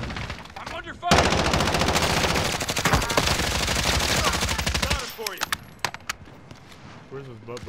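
Sustained automatic gunfire in Call of Duty: Modern Warfare, about four seconds of rapid loud bursts followed by scattered single shots, with players talking over the game.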